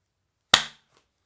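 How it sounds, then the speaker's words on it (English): A single sharp hand clap, loud and close, in a quiet room during a late-night podcast, followed by a faint short echo. "All right, clapping time."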